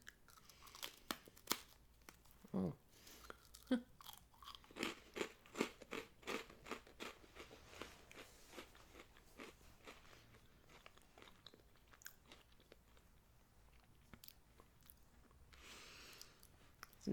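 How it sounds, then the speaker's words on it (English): Toasted meringue crunched and chewed close up, a long run of sharp, crackly bites and rhythmic chewing clicks, loud at first and softening as it goes on, with one brief spoken sound. "once you get that initial like crunch and get it in your mouth, it's not so bad"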